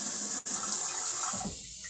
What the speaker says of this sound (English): I just finished washing my can, but I'm going to wash this next one